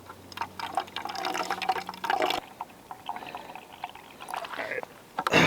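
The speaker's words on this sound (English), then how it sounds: "Now I'm going to fill this up with the filtered water" Filtered water pours steadily into a bottle with a gurgling, trickling flow, pausing briefly before continuing, ending with a louder handling sound.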